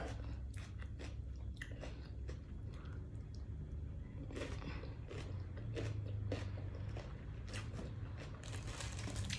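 Someone eats sticky rice with Lao-style eggplant soup, close wet chewing and crunchy bites repeating unevenly over a steady background noise, with no clear talk.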